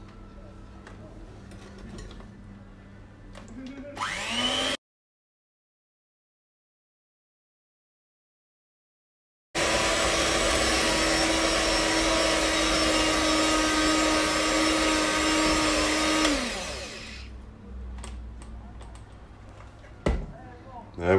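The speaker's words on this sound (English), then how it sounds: "So now we're going to give that a whisk up." An electric whisk or mixer whirs loudly and steadily for several seconds, beating cocoa powder into a low-carb chocolate mousse mixture, with short bursts of motor noise before a gap.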